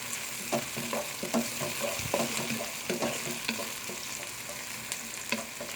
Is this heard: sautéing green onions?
yes